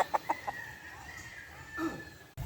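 Roosters at a gamefowl farm, with a few short clucks and a faint, drawn-out crow heard from some distance and no talking.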